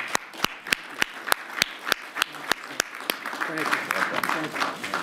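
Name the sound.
applause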